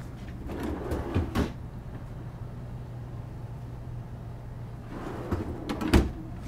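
Doors of a Whirlpool residential refrigerator freezer in a 2023 Newmar Dutch Star 4370 motorhome are opened and latched, giving a few soft clunks near the start and end over a steady low hum.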